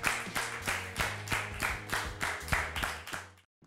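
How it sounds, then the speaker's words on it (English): A steady round of clapping from several hands, rhythmic and fairly close, running for a few seconds and stopping abruptly. "give yourself a round of applause."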